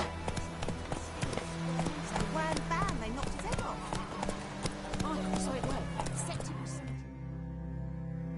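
Horse hooves clip-clop at a steady galloping rhythm in a PS4 game, close and prominent, with music and spoken dialogue running over the top until the hoofbeats fade near the end.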